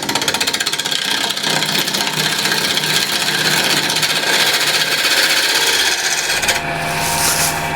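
Apple wood spinning on a wood lathe, producing a steady, loud rasping scrape with fine gritty texture throughout, softening toward the end.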